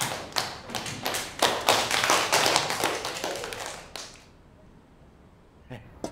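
Village schoolchildren clap in a classroom to welcome a new teacher, a few seconds of sharp, uneven clapping close by that breaks off abruptly into near silence.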